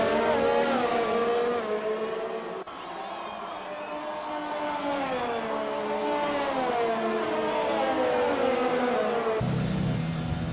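Race cars in a racing video game circulating in a tight line behind the safety car at the Russian Grand Prix, a loud continuous drone of several engines with shifting, wavering pitch, no talk.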